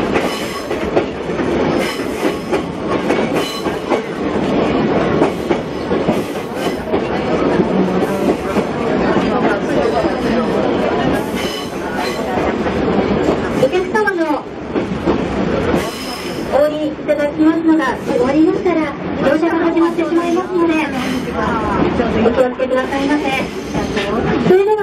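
Watarase Keikoku Railway trolley train running steadily on rails, a loud continuous rumble with wheel clatter and squeal, while a voice talks over it.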